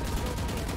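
Rapid gunfire from the tactical shooter Valorant, a dense continuous burst of shots filling the short moment at steady loudness, with no voices over it.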